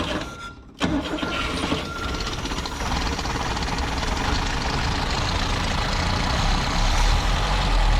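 A vintage Mercedes engine cranks over at the start, then runs steadily close by after its choke is pushed in and the idle is turned down, a loud, continuous rumble that holds without pause.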